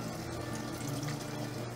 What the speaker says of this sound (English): I'll fill up one side with water and soap and do the dishes like that.